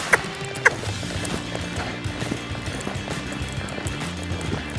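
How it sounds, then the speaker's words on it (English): A horse loping in an arena makes rhythmic muffled hoofbeats that repeat steadily at a moderate distance, with a couple of sharper knocks near the start and no talk. "Lope up on the right lead."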